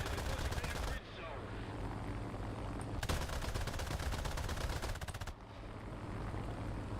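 Rapid machine-gun fire from a bomber's defensive gunners in War Thunder, a Japanese Rank IV aircraft under attack, rattling in dense continuous bursts with brief pauses, over steady engine drone.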